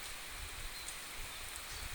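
Light but steady rain falling outdoors, a soft continuous hiss of drops on surfaces, even and unbroken, with no voices.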